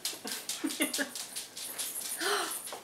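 A puppy whimpers and yips in a string of high, thin cries, close and fairly loud, with no talking.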